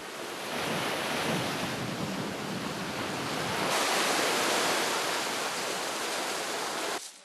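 Sea waves washing onto a rocky shore at low tide, a continuous loud rushing wash with swells rising and falling and wind noise, cutting off abruptly at the end.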